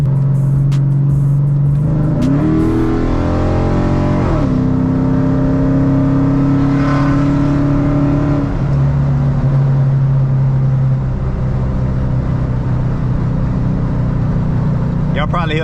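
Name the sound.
wind noise in a car with the roof open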